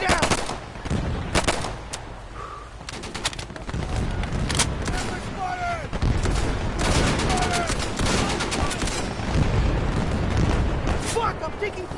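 Sustained gunfire in a World War II shooter game, with overlapping rifle and machine-gun bursts and occasional booms, steady and fairly close throughout, with a voice talking over the shooting.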